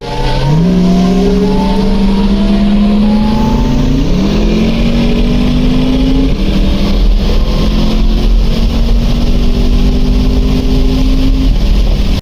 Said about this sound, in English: the Lamborghini with the naturally aspirated 640 horsepower V10